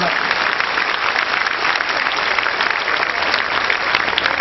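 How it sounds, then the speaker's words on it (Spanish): Sustained applause from a crowd, dense and steady clapping filling the whole stretch at an even, fairly loud level. "Un aplauso a las damas"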